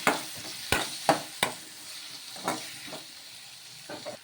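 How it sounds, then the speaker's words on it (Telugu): Chopped tomato, green chilli and onion pieces sauté in a pan, giving a soft steady sizzle broken by several sharp scraping stirs, close and moderately quiet with no talking. "కారానికి తగ్గట్టు పచ్చిమిర్చి వేసేసుకొని ఇవన్నీ కూడా బాగా మగ్గించుకోవాలి."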